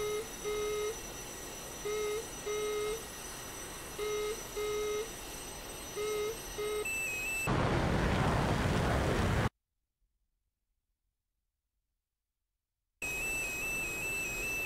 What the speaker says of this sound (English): our RWR alerts you with an audio beep